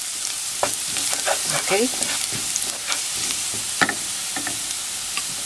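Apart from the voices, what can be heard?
garlic sautéing in pan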